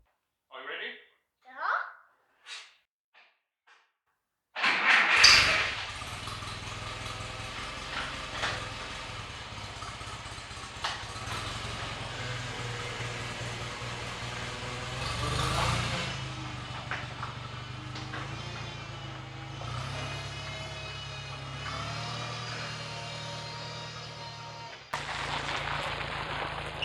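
An old, cheap tractor engine coughs through a few sharp firing bursts, then catches and runs continuously, a close, rough, steady drone as it warms up.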